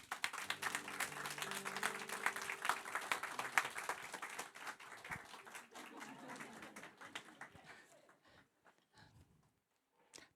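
Applause fills a church during a founding service in Seoul, where the congregation claps in a dense, lively burst for the first half. It thins out and fades to scattered claps and near silence.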